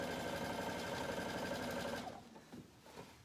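A sewing machine stitches shorts fabric in a fast, steady whir for about two seconds, then stops, leaving a few soft handling bumps close by.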